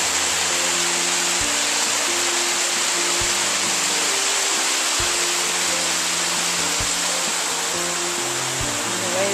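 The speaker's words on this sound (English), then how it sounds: "There's some more of the waterfall." The waterfall at Pacifico's Waterfall Pavillion, above a swimming pond with suspension bridges nearby, pours with a loud, unbroken rushing hiss that stays steady and close for the whole stretch, over a faint low hum.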